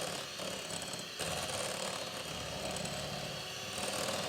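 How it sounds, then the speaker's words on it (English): Eton mess mixture being whisked by hand in a bowl, a steady close scraping and rattling that runs continuously and fairly loud throughout. "So just keep whisking it. You want it to go nice and thick."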